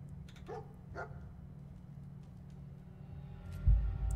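A dog in the video game Fallout 4 gives a couple of faint, quick barks or yips near the start, heard softly over a steady low game hum.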